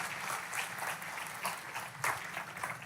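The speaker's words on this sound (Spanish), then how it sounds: "dése un aplauso a usted mismo" Church congregation applauding, a fairly faint, steady rolling patter of many hands clapping in a large room, with slight swells, no voices.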